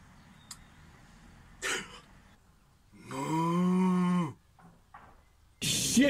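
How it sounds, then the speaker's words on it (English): A cow moos once, loud and close at a campsite at night, a drawn-out low call among scattered rustling and short bursts of noise. "Cows."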